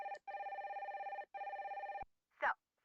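A phone rings in the Nancy Drew: Sea of Darkness game: two rapid warbling electronic bursts, loud and close, followed by a brief sharp click.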